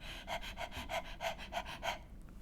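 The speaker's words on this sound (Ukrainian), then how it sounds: "лежить на дорозі пес гончак, висолопив язика і на силу дихає, наче після важкої гонитви" A hound dog, in a children's fairy tale, pants heavily with about seven rhythmic, breathy gasps in an even beat that then fade to quiet. No voices are heard.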